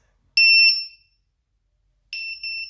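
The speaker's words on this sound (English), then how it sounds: "So now it's at its maximum volume" A VIFLY Finder drone buzzer shrieks at maximum volume, very loud piercing tonal beeps close by: two quick blasts, a pause of silence, then a longer run of rapid beeps.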